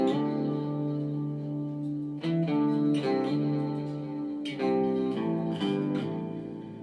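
Distorted electric guitar chords through a Boss GT-1000 overtone effect ring out with layered, shimmering harmonics, with a few sustained strums followed by fresh attacks.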